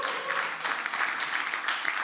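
Audience applause at a tech conference kickoff talk, a steady wash of many hands clapping that fills the whole short stretch at moderate volume with no voices over it.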